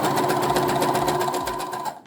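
A sewing machine zigzag-stitches elastic onto lingerie knickers, a fast, loud, steady mechanical whir up close that stops abruptly at the end.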